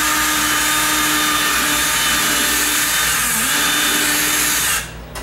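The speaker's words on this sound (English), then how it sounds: "now I can tighten that up, and I can get up there and drill that" A power drill whirs steadily at close range, grinding into wood while fixing a sagging door for several seconds before it stops abruptly.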